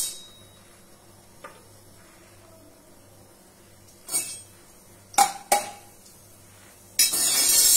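A pan of urad dal being stirred and roasted in a quiet home kitchen, with a few scattered clinks and scrapes of a utensil against the pan, ending in a sudden, sustained hiss.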